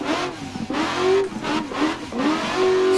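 A 1000hp Formula Drift Mustang engine in a driving game revs hard through canyon traffic, loud and close, surging and dropping repeatedly as the gears shift, with brief whistling tones between the revs.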